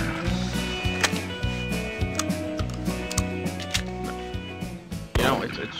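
A 20-gauge shotgun in the Cabela's Trophy Bucks hunting game fires a single blast near the end, over a looping in-game music track with steady rhythmic beats.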